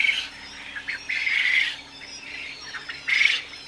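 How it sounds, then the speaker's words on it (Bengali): European white giant quail giving several sharp, harsh squawks in close succession, loud and near, with brief gaps between calls and no talk. "European white giant Koel"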